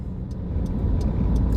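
A car driving along a road, its engine and tyre rumble steady and fairly close, with a few brief high ticks over the low drone.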